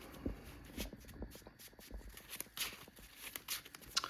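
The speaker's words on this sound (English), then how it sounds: "I just shuffle up the deck" A Yu-Gi-Oh Tenpai Dragon Ruler deck is shuffled in quick riffling bursts, soft and close, a repeated papery flutter with brief pauses between.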